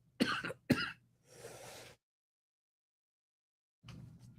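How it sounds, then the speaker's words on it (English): Two sharp coughs close together, then a rougher, longer throat-clearing exhale, a pause of silence, and a faint breathy sound at the end. "Excuse my coughing."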